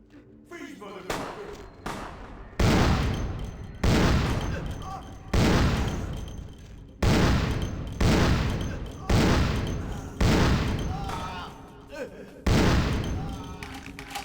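Gunfire from a gun in the video game Vampire: The Masquerade: eight or nine loud, heavy booming shots spaced about a second apart, each with a short decaying tail.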